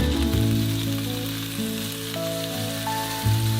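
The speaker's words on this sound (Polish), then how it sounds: "Podsmażamy teraz na patelni, aż bekon brązowieje." Bacon-wrapped food sizzles and crackles steadily in a hot pan as the bacon browns, a close, continuous frying hiss with no voices.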